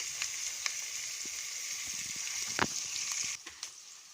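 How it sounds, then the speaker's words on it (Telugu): Onions fry steadily in a pan, giving a soft continuous sizzle with occasional small pops and stirring clicks, quiet and close with no talk. "ఆనియన్స్ బాగా ఫ్రై అవ్వాలి."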